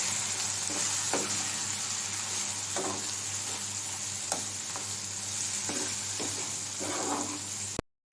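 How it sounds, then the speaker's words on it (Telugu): Ivy gourd (kanchara kayalu) frying in a pan as lentil powder is mixed in, with constant sizzling and periodic stirring scrapes at a moderate level, cutting off abruptly at the end. "పప్పల పొడి వేసుకొని మిక్స్ చేసుకోవాలి"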